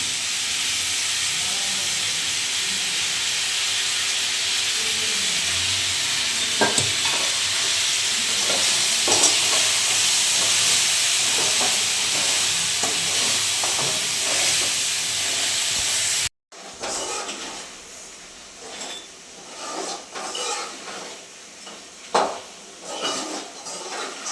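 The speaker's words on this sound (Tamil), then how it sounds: "நம்ம வந்து நண்டு வந்து வதக்க ஆரம்பிச்சிட்டோம்" Blue crab stir-fried in a pan at home for a crab fry, giving a steady loud sizzle and hiss with scattered stirring scrapes; partway through the sound cuts briefly, then returns quieter and more broken.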